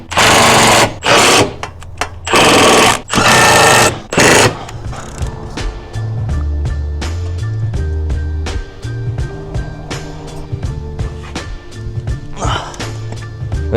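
An impact or power wrench tightens a large T12 Torx bolt on an Audi SQ5 transmission mount in bursts of loud, buzzing hammering, followed by rapid ratcheting clicks under a voice.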